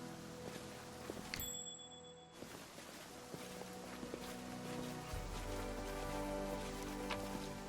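Rain in the video game Pathfinder: Kingmaker, a steady soft patter of raindrops spread across a wide outdoor map, constant and moderately quiet with faint rustling and a few brief game effects over it.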